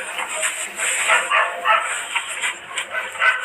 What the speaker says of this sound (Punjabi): ਉਹ ਪਿੱਛੇ ਕੁੱਤੀ ਭੌਂਕੀ ਆਉਂਦੀ ਹੈ